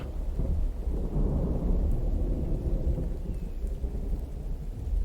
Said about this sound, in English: Some of the best storm sound effects I've had in a vanilla game anyway